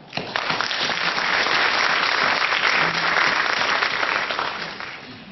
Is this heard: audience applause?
yes